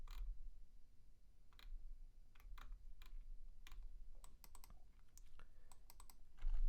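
Computer keyboard key presses while coding, a series of sharp, close clicks at irregular intervals, some in quick pairs, over a low background hum.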